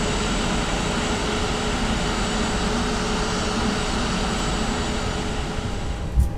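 Steady, loud engine drone of a Flight Factor A320 airliner taxiing toward runway 09 right at Charles de Gaulle in the X-Plane flight simulator, continuous and even with a brief bump near the end.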